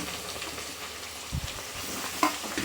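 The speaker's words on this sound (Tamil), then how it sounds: "அந்த இஞ்சியையும் இப்போ அதில் போட்டுக்கலாம் இஞ்சி கொஞ்சம் நல்லா பொரியணும்" Small pieces of ginger fry in oil for a fish pickle, giving a continuous close sizzle with a few soft stirring knocks in the pan.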